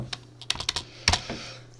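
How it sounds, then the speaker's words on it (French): Keystrokes on a computer keyboard while entering the number of matrix columns in a C program, a quick irregular burst of close, crisp clicks with short pauses between. "on va rentrer donc au clavier le nombre de colonnes"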